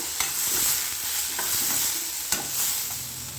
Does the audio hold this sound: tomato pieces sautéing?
yes